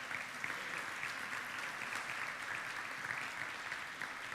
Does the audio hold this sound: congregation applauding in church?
yes